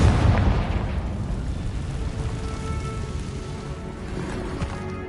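A Confringo blasting spell in the Hogwarts Legacy video game bursts with a loud, close boom that fades into a crackling, rumbling tail, without any voices.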